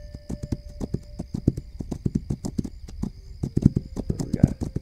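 Horse hooves clip-clop in a steady rapid rhythm on a road in a video game, close and distinct, with someone speaking briefly over them.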